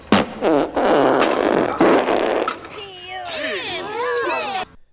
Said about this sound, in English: Yeah, they fart.